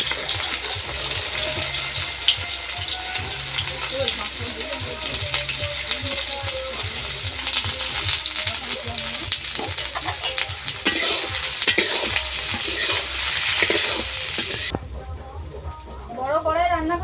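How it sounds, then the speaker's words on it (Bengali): Chopped onions fry in a large wok for mutton curry, a steady loud sizzle with stirring scrapes throughout, while a person talks over the cooking. "এখন পেঁয়াজ কুচি দিয়ে দেবো।"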